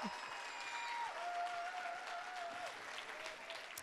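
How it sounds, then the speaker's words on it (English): A room of people at a school choir festival claps steadily, a dense, even patter of applause that holds throughout and tapers slightly at the end. "give her a huge round of applause"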